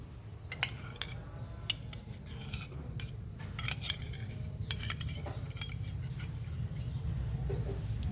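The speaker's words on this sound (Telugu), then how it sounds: "బౌల్లో వేసుకున్న తర్వాత మరి దీన్ని ఇలా కొద్దిగా పీసెస్గా కట్ చేసేసుకొని" Food is cut into small pieces in a bowl, a run of crisp snipping and scraping clicks at an irregular pace over a low steady background, fairly faint and close.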